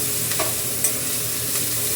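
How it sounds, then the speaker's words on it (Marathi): Curry leaves, green chilli and onion sauté in a kadhai, a steady close sizzle with soft stirring scrapes running throughout, no voices. "आपलं कढीपत्ता, मिरची आणि कांदा चांगलं परतून."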